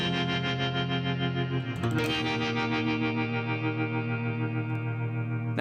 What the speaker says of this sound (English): if I just played the chords, it would sound like